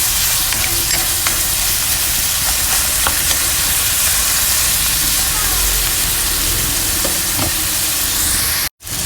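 Ground pork browning in a pan gives a loud, constant close-up sizzle with crackles, with a brief cutout just before the end.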